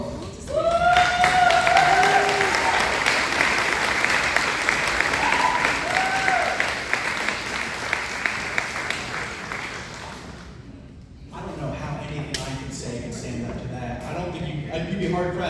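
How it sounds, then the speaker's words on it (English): An audience at a speaking event applauds previous speakers with loud, sustained clapping that fades after about ten seconds, followed by scattered claps and murmurs. "let's give another round of applause for all of our previous speakers"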